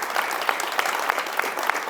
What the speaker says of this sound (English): Give them a hand of applause, because this is amazing